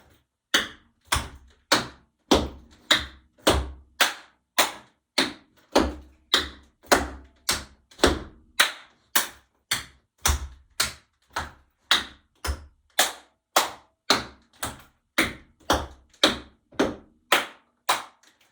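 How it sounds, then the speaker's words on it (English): Tap-dance ball-heel steps and claps in a rhythm and tap class, a long run of crisp, evenly spaced percussive hits in a steady repeating pattern, close and clear with no talk. "Let's put 3 ball heels and a clap, clap."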